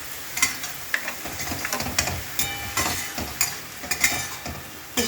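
Leafy greens frying in a pan with whole poppy seeds, a steady crackling sizzle broken by sharp scraping clinks of a spatula stirring against the pan.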